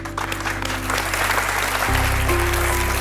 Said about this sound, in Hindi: इस खूबसूरत जोड़ी के लिए एक बार और तालियां हो जाए